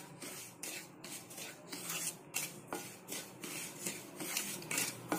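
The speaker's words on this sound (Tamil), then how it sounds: "இது கருகாமல் இந்த மாதிரி நல்லா வறுத்துக்கோங்க." Dry semolina (rava) roasting in a pan for rava kesari, stirred steadily with a utensil that scrapes and rubs against the metal in soft, continuous strokes, close and fairly quiet, with no one talking.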